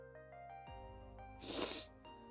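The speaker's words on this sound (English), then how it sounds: "Sorry, I got a little sniffles." One short, close sniffle of the nose rises and falls in under half a second over a steady background hum of music.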